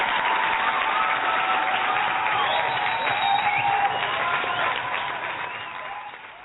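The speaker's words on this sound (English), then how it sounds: "a big round of applause for Slayer for doing the right thing there" Studio audience applause mixed with cheering, a dense, loud wash of clapping and whoops that holds steady before tapering off near the end.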